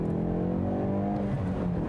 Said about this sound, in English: You can hear in normal, the exhaust gets a little quieter.